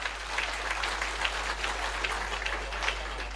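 An audience claps at a live motivational event, a steady, faint wash of many hands running evenly throughout with no voices on top.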